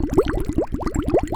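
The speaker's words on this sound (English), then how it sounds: "Now with these water bubbles, I'm doing the exact same thing, playing it, seeing how I like it" Water bubbles recorded as a mobile game sound effect: a steady run of rounded, rising bloops in quick rhythm, close and clear, with no voices.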